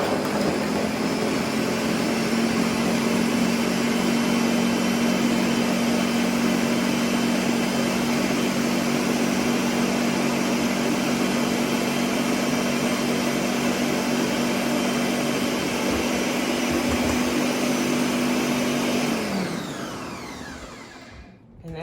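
A blender whirs steadily while blending a tropical smoothie, a loud continuous motor drone that holds an even pitch for about nineteen seconds, then spins down and fades at the end, with no talking.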